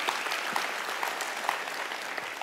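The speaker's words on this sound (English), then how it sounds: "can you clap your hands if you're thankful for that today?" A church congregation clapping their hands together, a dense, continuous wash of applause from many people in a large room, fairly loud and steady throughout, without talk over it.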